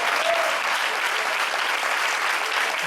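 A church congregation claps loudly together at a prayer gathering, a thick, unbroken wash of applause at full strength throughout, with no speaking over it.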